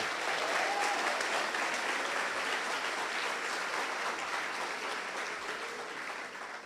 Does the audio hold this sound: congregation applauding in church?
yes